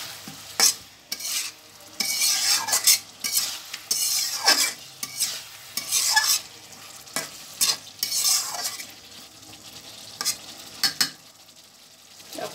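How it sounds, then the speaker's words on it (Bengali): Large stinging catfish (shing) stir-fried in a hot pan, with bursts of sizzling and repeated spatula scrapes and stirs coming in uneven waves, close and fairly loud, with no talking. "এখন আমি মাছগুলা দিয়ে দিচ্ছি, শিং মাছগুলা।"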